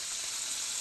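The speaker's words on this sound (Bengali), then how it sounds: "মাছ ভাজা, এখানে আর কি মাছ আছে, ওটাও ভাজবে" Bhola fish fry in a pan in a home kitchen, giving a steady, close hiss of sizzling oil with no voices.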